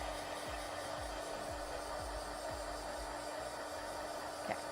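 Hair dryer blowing steadily on paper artwork made with Caran d'Ache Pablo colored pencils, a constant close whooshing roar with a low hum and no talk over it.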